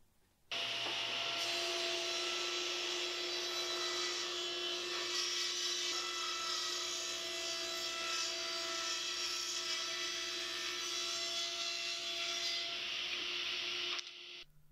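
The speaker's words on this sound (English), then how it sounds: "I can then tilt my table saw all the way over to 45 degrees and just visually line up the marking with the blade and lock down the fence." A table saw tilted to a 45-degree bevel runs through a steady cut on shop cabinet stock, a loud sustained whine with a constant tone that starts abruptly and stops near the end, with no talking.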